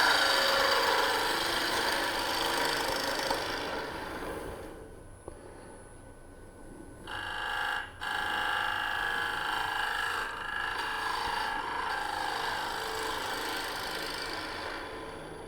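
Bowl gouge cutting wood on a lathe while turning a wig stand, a steady rough scraping hiss that dips briefly mid-way then resumes, close and continuous with no talk.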